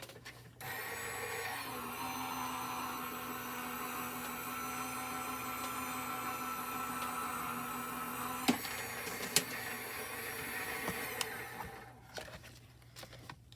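A Gemini Junior electric die-cutting and embossing machine runs with a steady motor whine and hum for about ten seconds, then a few clicks and a short stop before it winds down.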